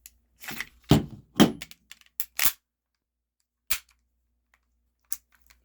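A Cybergun Desert Eagle airsoft pistol fires a rapid string of sharp, loud cracks. A separate crisp snap follows a moment later as the last shot goes off and the slide locks back, and a faint click comes after that.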